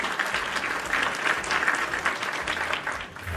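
Canned applause sound effect, a dense, even clapping from a crowd that runs steadily for several seconds at moderate volume with no voices over it.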